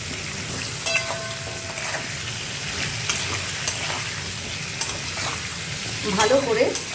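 Spices with turmeric and salt frying lightly in a kadai, a continuous close sizzle with scraping stirs and a louder burst of spatter toward the end, no voices.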